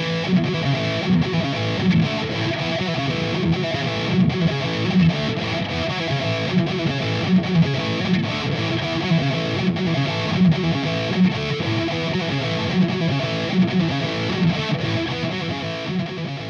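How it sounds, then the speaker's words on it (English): Heavily distorted electric guitar plays a riff, a continuous, dense, driving pattern of chugging notes at steady volume with no vocals. "And then we get into the next riff that sounds like this."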